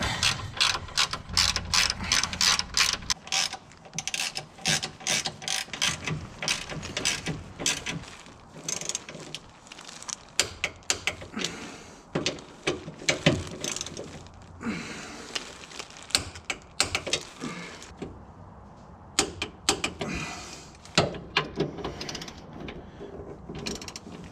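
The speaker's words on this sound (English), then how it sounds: "Now we're finally bolting things up." A hand ratchet tightens bolts on a car's sway bar and end links, long runs of rapid close clicking that speed up and pause between strokes, with short breaks and faint background voices.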